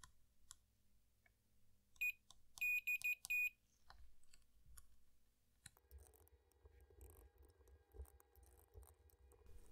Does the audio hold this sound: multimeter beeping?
yes